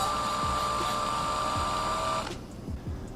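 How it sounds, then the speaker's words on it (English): Small drill bit boring into a fuel pump venturi piece during a 370Z/G37 supercharger install, a steady high whine running for about two seconds before cutting off, with a few light clicks and handling noises close by. "So we're going to start off with a smaller drill bit and work our way up."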